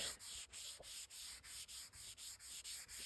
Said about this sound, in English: I'm pretty happy with how this sanding is evening out the texture of this door